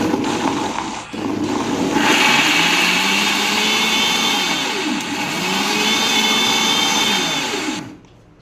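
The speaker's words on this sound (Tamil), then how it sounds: "எல்லாமே ஆட் பண்ணி நல்லா அரைச்சி மசாலாவாக எடுத்துக்கோங்க" An electric mixer jar grinding masala with cashews for hariyali chicken: after a brief start, the motor whirs loudly and steadily for several seconds, its pitch wavering slightly, before it cuts off abruptly, with no voices.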